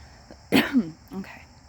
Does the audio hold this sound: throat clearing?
yes